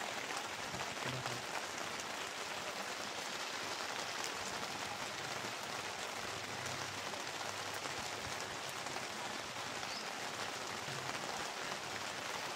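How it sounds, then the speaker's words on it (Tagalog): Heavy rain pouring down steadily in a dense, unbroken hiss, loud and close throughout with no letup and no voices. "Grabing ulan guys, napaka lakas."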